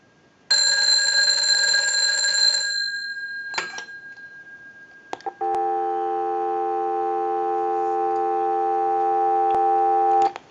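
One last ring from a Stromberg Carlson 1157 telephone fades out, a couple of clicks follow, then a steady, continuous dial tone hums on without a break.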